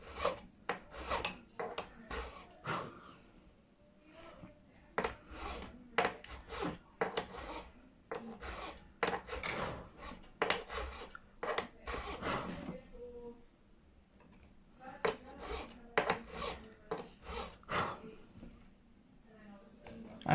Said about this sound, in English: just using the 10 gauge file for the treble strings because it just seems to work the best